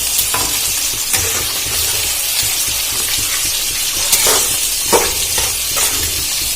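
Mustard-based spice paste for a Bengali rohu fish curry sizzles steadily in a pan, a continuous close hiss broken by a few clinks and stirring scrapes, with no talking.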